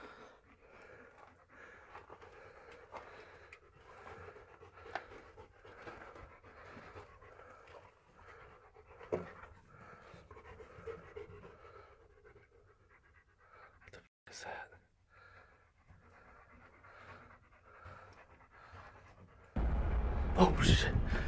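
A dog pants steadily and close by for a long stretch, the rapid breaths running under occasional talking, with a sudden loud burst of noise at the very end.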